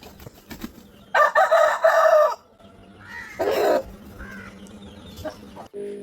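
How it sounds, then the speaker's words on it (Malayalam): Rooster crowing nearby, two loud drawn-out crows separated by a pause, with quieter clucks and faint background sounds between them. "ഈ കോയി കൂവും"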